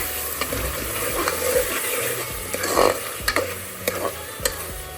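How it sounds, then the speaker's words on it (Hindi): Meat sautéing in oil in a pot while it cooks down, a steady close sizzle broken by repeated spoon knocks and scrapes, no talk. "गोश्त गल रहा है, अभी ऊपर ऑयल जब तक नहीं आता इसको भूनना है।"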